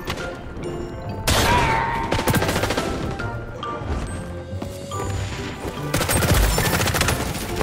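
Rapid P90 submachine gun fire in the XDefiant shooter game, dense bursts of close, loud shots with crashing impacts running through most of the stretch.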